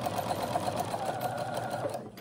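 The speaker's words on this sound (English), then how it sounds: "I'm just using a long basting stitch on my sewing machine" A home sewing machine runs a long basting stitch while making a princess dress, a steady, rapid mechanical whir and needle patter that holds evenly up close and slows near the end.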